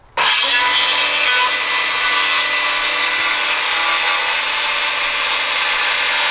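A Bosch Profactor 18V cordless rear-handle saw rips steadily through wood, starting abruptly and running loud and close without a break, its blade rasping and straining against the cut.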